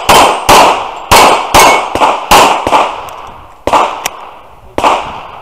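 Sharp, loud pistol shots from an Infinity pistol at a USPSA match, about nine reports fired in quick uneven bursts with brief pauses, each crack ringing out with a short echo.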